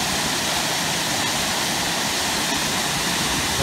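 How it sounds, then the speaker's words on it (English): Powerful waterfall on the Ystradfellte Four Falls Trail, a broad, constant roaring hiss of falling water, loud and close, with no pauses or other sounds over it. "Well, this is the first waterfall we come to."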